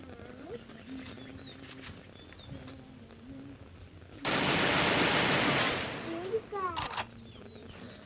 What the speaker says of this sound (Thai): กดยิงเฉยๆมันก็จะยิงหัว